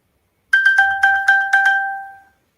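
A phone ringtone plays loudly and close, sounding as a quick series of about eight bright electronic chime notes in a steady rhythm that ends in a sustained ringing tone, with no speech.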